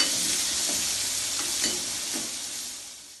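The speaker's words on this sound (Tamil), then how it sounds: "போட்டு நல்லா கொஞ்சம் பொன்னிறமாக வதக்கிக்கிறோம்." Finely chopped shallots sauté in a pan for a tomato sambar, giving a soft, steady hiss of frying with a few faint stirring scrapes, close and fading slightly toward the end.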